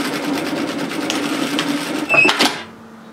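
A sewing machine stitches a seam across a shirred-back summer top, a steady mechanical whir running for about two seconds before a brief louder burst and then stopping.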